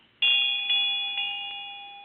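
A ritual bell rung at an altar during a ceremony, four clear bright strikes in even succession, each leaving a long pure ringing tone that slowly fades, heard alone in a quiet room.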